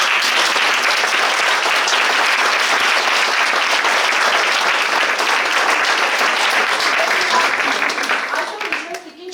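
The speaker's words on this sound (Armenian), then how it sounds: "Եկեք մեկ անգամ ևս բոլորս միասին ծափենք։" An audience at a kindergarten graduation matinee claps for the teachers in dense, loud, continuous applause that carries on evenly before tapering off at the very end.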